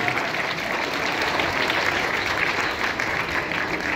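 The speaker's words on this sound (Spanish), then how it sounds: "El aplauso es para todos ustedes." Steady, dense applause from an audience at a school dormitory event, continuous and loud for several seconds with no break.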